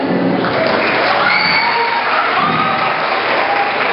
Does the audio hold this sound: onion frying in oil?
no